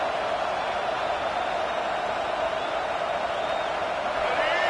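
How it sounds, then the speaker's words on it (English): A football stadium crowd roars steadily throughout, a dense, even wash of massed voices that holds at the same loud level without any clear peaks. "This crowd trying to make life miserable for this offense."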